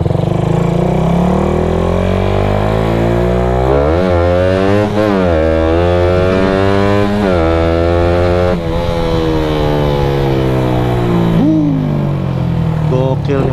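Suzuki Satria FU motorcycle with a tuned carburetor and exhaust revs hard, its loud buzzing engine sweeping up and down in repeated throttle pulls, close and continuous throughout.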